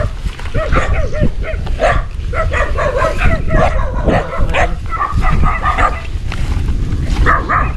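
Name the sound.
dogs barking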